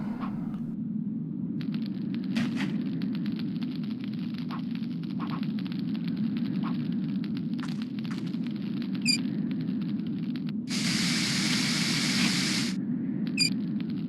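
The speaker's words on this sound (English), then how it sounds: "Yes, a burst of steam blasted out." A sudden burst of steam hisses out in the adventure game Runaway: A Road Adventure, a loud broadband blast lasting nearly two seconds over a steady low hum, with scattered faint clicks before it.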